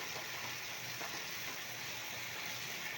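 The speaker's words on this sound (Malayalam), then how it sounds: "തക്കാളി ഇട്ടിട്ട് വഴറ്റുക." Tomatoes sautéing in a pan for Kerala-style thakkali chutney give a steady, even sizzle with a soft hiss throughout, close and continuous with no talking.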